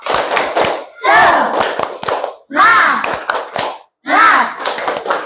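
A classroom of young children claps a rhythmic cheer in loud bursts of quick patterned claps, broken by short pauses and mixed with their chanting voices.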